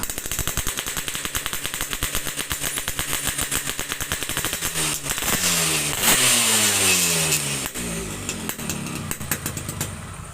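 Yamaha RX King two-stroke motorcycle with a modified, hollowed-out loud exhaust, crackling at idle then revved hard in rising bursts, close and loud, with sharp popping pulses throughout.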